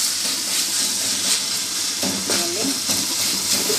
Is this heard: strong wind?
no